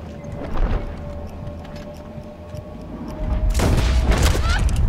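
Gunshots in the video game Red Dead Online during a large posse war in free roam: several sharp cracks and booms, one early burst and then a louder cluster near the end, over a continuous background rumble.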